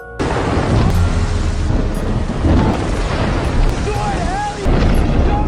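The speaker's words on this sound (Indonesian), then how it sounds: "Dan saat malam hari, sekoci mereka pun kembali diterjang badai besar." A violent storm at sea at night rolls on in loud, continuous rumbling roars with a rain-like wash. Short tonal cries rise near the end.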